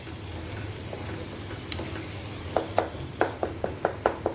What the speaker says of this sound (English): we will add in 4 tablespoons of oil and 2 teaspoons of ghee. And we will give it a quick stir.